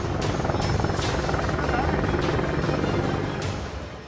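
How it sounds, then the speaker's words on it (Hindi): An Apache attack helicopter at an Indian Air Force forward airbase at night runs loud and close, its rotor chop pulsing steadily throughout with a constant engine whine. "सबसे पहले यहां से दुनिया का बेहद शक्तिशाली लड़ाकू हेलीकॉप्टर अपाचे उड़ान भरने के लिए तैयार था।"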